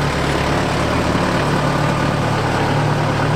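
A farm tractor's diesel engine idles steadily on a melon farm during harvest, a continuous low rumble with a broad noisy hum, close and constant throughout with no talk over it.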